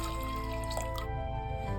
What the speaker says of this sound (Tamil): 1/2 லிட்டர் அளவு தண்ணி சேர்த்துக்கலாம்.